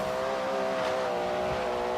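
A race car engine in the video game Forza Horizon 3 whines steadily at a distance, a sustained high-pitched drone with slight swells, during a wet race.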